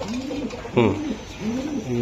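A male racer pigeon coos in a few soft, rolling phrases at close range, with a sharper burst of calling partway through over a quiet background.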